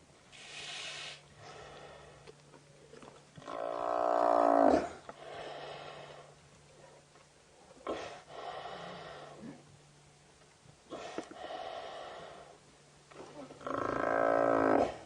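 Lionesses feed on a still-living kill on safari, with heavy snorting breaths, low rumbling growls and rasping groans from the animals, coming in close bursts separated by quieter pauses.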